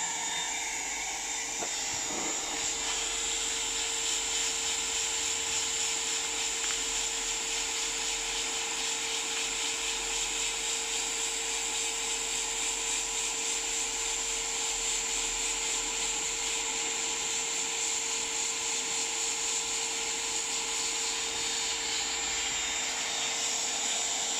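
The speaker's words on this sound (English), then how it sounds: "plastic welding rod. You just steady it. Keep it flat on the deck, else it will push through." A hot-air plastic welder melts plastic welding rod into a broken Land Rover Discovery 2 Td5 front bumper, giving a steady, unbroken blowing hiss that holds at an even level throughout with no talking.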